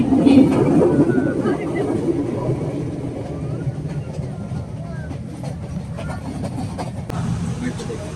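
A passenger train on the Nuwara Eliya to Ella line in Sri Lanka rumbles steadily from inside a carriage, with faint rail clatter and a continuous low drone beneath people talking.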